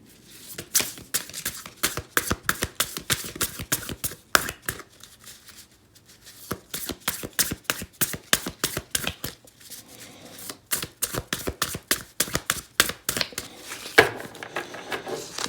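Tarot cards shuffled by hand in a steady run of quick, crisp riffling snaps, close and fairly loud, with a couple of brief pauses in the rhythm and no talking.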